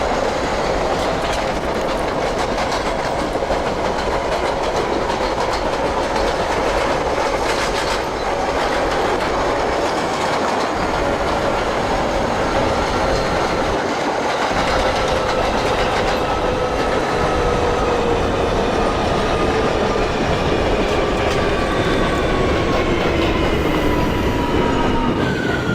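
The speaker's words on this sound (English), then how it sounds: "This is a Manhattan-bound C local train." R179 subway train on a Manhattan-bound C local in the openbve train simulator, running steadily with continuous rumbling wheel noise, clickety-clack over rail joints and a faint rising whine throughout.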